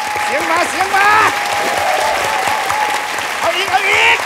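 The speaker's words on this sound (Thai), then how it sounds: "ขอเสียงปรบมือพี่อู๋ด้วย" A studio audience on a Thai game show applauds loudly and continuously, with voices talking and calling out over the clapping.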